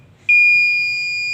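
Garrett metal detector in sound mode gives one loud, sustained high-pitched electronic beep that starts abruptly and holds steady, close and alone.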